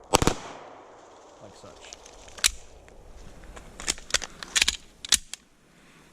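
Sharp pistol reports from a CZ P09 handgun, several spaced cracks and a quick cluster fired in bump-fire bursts, loud and close with some voice in between.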